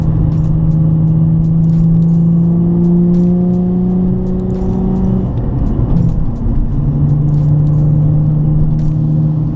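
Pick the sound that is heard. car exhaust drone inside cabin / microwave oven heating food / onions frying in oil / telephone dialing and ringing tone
car exhaust drone inside cabin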